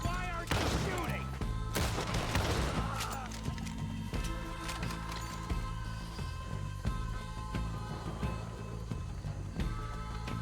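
Scattered gunshots in the Western game Red Dead Redemption 2, several sharp cracks in the opening seconds over a continuous musical score and battle ambience, with people talking throughout.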